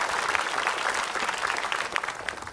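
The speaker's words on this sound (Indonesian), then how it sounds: "Tepuk tangan buat Ustadz Febri." A studio audience at an Islamic talk show claps for a preacher, giving a short, dense burst of applause that stays loud and even from start to finish.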